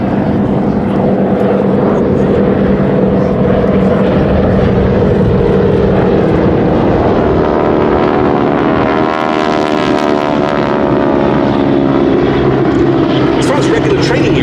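Eight North American Harvard propeller trainers flying at the Duxford Air Festival 2018 give a loud, continuous radial-engine drone that swells and shifts pitch as they pass overhead, with a voice present under the roar.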